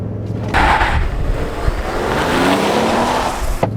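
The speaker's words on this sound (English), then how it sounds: "And I'm gonna actually launch this in 4 high." A 2022 Toyota Tundra 1794 Edition with twin turbos launches at full throttle in 4 high on a hot day, its engine roaring loud and close with a rising rev sweep that builds steadily across the run.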